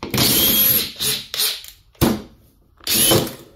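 A cordless power drill running on a Ceenr universal battery drives screws into wood in loud, close bursts of whirring with a ratcheting clutch, pausing between runs and ending in a final longer spin.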